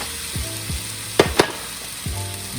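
Shrimp for pad thai sizzle in a hot pan with a steady, moderate frying hiss, broken by a few soft scraping strokes and two sharp clacks of a utensil against the pan.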